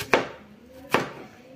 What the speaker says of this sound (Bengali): আমি দেখো একটু পাতলা পাতলা করে এগুলোকে এভাবে কেটে নিচ্ছি